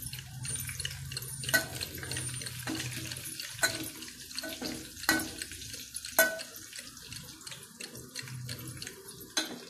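Cooked dal is stirred and mashed in a pot for a drumstick (moringa) curry, giving wet squelching, scraping and irregular knocks with brief sharper clatters, close and fairly quiet, with no talking.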